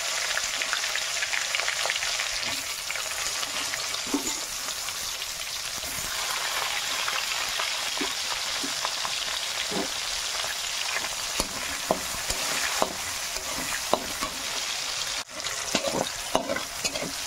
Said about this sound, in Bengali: এর মধ্যে একটু পেঁয়াজ দিয়ে দিলাম।